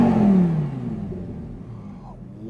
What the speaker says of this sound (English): What an iconic engine. What an exhaust sound.